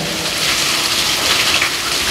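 Heavy rain pours steadily and loudly on surfaces close by, a dense unbroken hiss with low rumbles of thunder running beneath it, and no voices.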